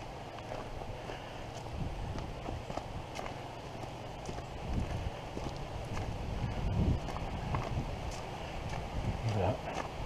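Several horses walk along a forest trail on the GR127 hiking route near Waterloo in Brabant Wallon, Belgium, their hooves making a steady, soft clip-clop under wind and microphone rumble, at a moderate distance and not loud.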